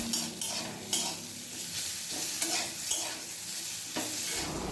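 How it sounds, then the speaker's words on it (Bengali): Cauliflower stems frying in a pan with mustard and chilli paste, stirred with a utensil that gives repeated scraping knocks over a steady, close sizzle. "এবার একটু হালকা নাড়াচাড়া করে দিচ্ছি"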